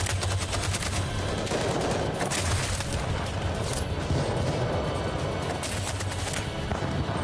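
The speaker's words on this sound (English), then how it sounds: "you give cover and fire, and you shoot the guys" Dense, continuous gunfire from the video game Detroit: Become Human, rapid overlapping shots and bursts filling the scene without pause, loud and sustained throughout.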